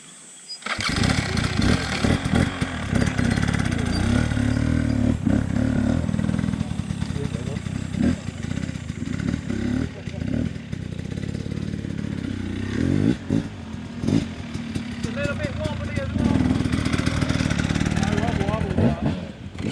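A trials motorcycle at a riding clinic in a field and forest in Harrisville, New Hampshire, catches and revs loudly from the start, its rough engine snarl rising and falling steadily near the listener while a voice talks over it.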